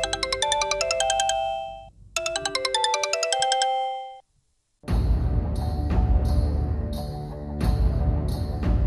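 A mobile phone ringtone plays for an incoming call late at night: a bright repeating electronic melody, a short pause, then a fuller, louder musical ring with rhythmic phrases continuing alone without talk.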